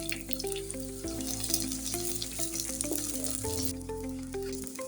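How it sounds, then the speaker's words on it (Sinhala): Chopped onions frying in oil in a pan on the stove, a steady close hiss of sizzling running under loud background music. "ඉතින් මං භාජනයක් ලිපේ තියලා ඒකට තෙල් ටිකක් එකතු කරගෙන අපි අර කපාගත්ත ලුණු ටික මේකට එකතු කරගන්නවා."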